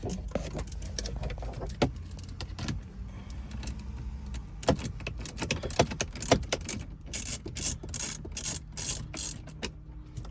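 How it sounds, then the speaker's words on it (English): A 10mm socket ratchet loosens and backs out a bolt during a phone mount install on a 2021+ Toyota Sienna, giving rapid close clicking bursts with small metallic clinks and handling noises. "Now we can take our 10mm socket, and we're going to loosen and remove this bolt right here."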